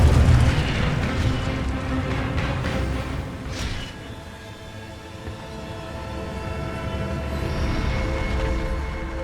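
Incendio fire spell blasts in Hogwarts Legacy, a deep booming whoosh over a low rumbling game soundscape, with a sharp flaring burst partway through before the roar settles into a steady ambient hum.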